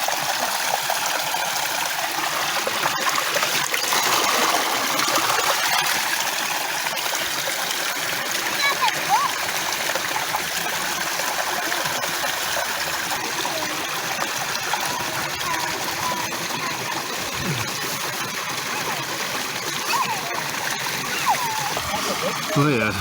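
Water splashing and trickling steadily as gravel is panned in a tub, a continuous close wet wash and slosh with a voice talking over it.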